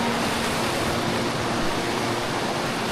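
Creek water rushing steadily as two hikers wade across on foot on the Te Araroa trail in New Zealand, a constant close broadband wash with no talk.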